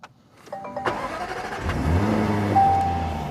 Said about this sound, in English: let me start this car up